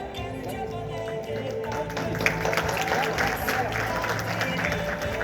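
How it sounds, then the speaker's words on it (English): A crowd at a Pakistan Resolution Day event in Turkey applauds steadily as a guest is called to the stage, a dense continuous patter of clapping with murmuring voices underneath. "Round of applause."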